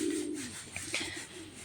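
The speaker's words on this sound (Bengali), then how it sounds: "দেখো এই যে পায়রা" A pigeon gives a low, soft coo at the start, followed by faint chirps over a quiet background.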